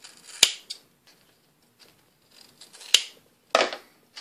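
Scissors snip through duct tape for a DIY pencil pouch, giving three sharp, separate cuts, each a crisp close snap, with quiet pauses between them.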